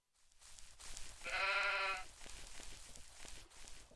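A single sheep bleats in the Minetest video game, one clear wavering call lasting under a second, set over quiet ambient game background with no talk.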